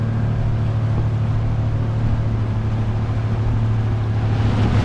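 A motorboat engine drones steadily and loudly on a boat trip toward a mangrove forest sanctuary, a constant low rumble with no voices.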